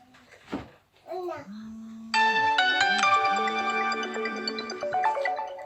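A mobile phone rings during a French-language sermon, a loud electronic melody that starts suddenly and keeps playing while someone speaks over it.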